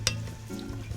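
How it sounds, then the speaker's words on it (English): Soft, steady sizzling of onions frying in a pan for Italian wedding soup, with a brief clink of stirring near the start; no voices. "once you hear the sizzling"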